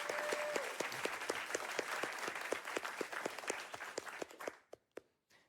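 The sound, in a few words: audience applause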